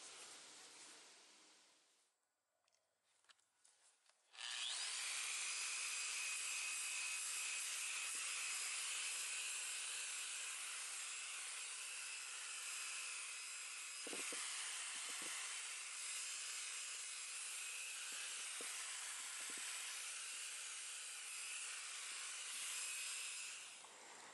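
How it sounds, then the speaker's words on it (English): A large chunk of Minnesota jasper being ground on 50 grit abrasive, a loud, steady broadband hiss and rasp that starts abruptly after a few quiet seconds and continues unbroken, close up, with brief lower knocks partway through. "So I'm working on 50 grit right now, and these spots I thought had enough scratches that I should hit them again."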